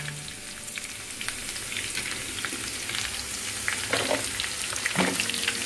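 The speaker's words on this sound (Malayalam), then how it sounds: "വെളുത്തുള്ളി ഒരു 5 മിനിറ്റ് മൂത്ത ശേഷം ചെറിയ ഉള്ളി ഒരു കപ്പ്" Garlic and small onions fry in a pan for a curry, a steady close crackling sizzle throughout with occasional louder pops and stirring scrapes, no talking.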